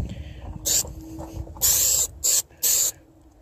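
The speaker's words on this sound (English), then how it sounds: "I'm gonna take my adhesive, which is well shaken. I'm gonna spray it right here." Four bursts of aerosol adhesive spray hiss from a can, short and then longer, close by, with quiet handling noise between them.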